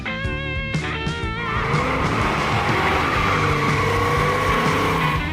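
1965 Shelby GT500 Mustang, light and brutally loud, roaring up through revs with a sharp rising engine note, then a sustained aggressive howl with tire noise, close and alone.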